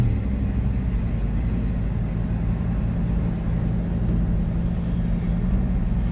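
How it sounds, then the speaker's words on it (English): Road traffic flows toward Austin from Cedar Park, a steady low rumble of car engines and tires passing at a moderate distance, constant throughout with no voices. "there's a lot of traffic coming out of Cedar Park today"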